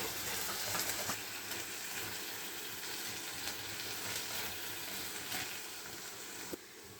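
Steady, close sizzle of masala and raw green peas frying in a pan for a peas paratha filling, a continuous hiss with faint stirring scrapes and no talk.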